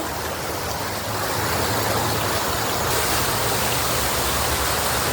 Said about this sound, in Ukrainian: Обожнюю, коли, знаєте, вода шуршить.